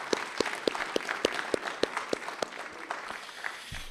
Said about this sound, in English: let's give Spencer a round of applause